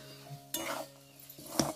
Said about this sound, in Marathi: मी झाकण काढायचे.